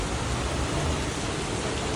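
Heavy rain pours steadily in Singapore, a dense, even roar of downpour that fills the whole stretch with no break or talk.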